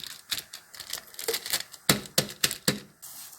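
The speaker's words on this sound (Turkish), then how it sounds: "Cevizi poşete koyduktan sonra şöyle biraz bardak yardımıyla biraz kıralım." Walnuts are crushed inside a plastic bag with a drinking glass, giving a run of sharp cracks and crinkly crunches, some single and some in quick bursts, close by with no voices.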